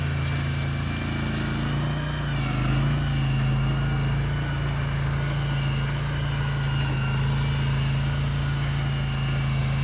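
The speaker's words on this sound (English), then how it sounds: "one scooter is coming" A scooter engine drones steadily on a cold autumn morning by the meditation kutis, a constant low hum that stays fairly even throughout with no voices.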